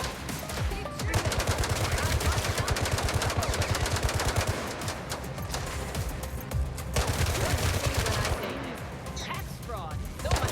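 Sustained automatic gunfire in a gangster video game set in Mirage City, a dense, loud, continuous fusillade of rapid shots with crashes and booms mixed in, filling the whole stretch.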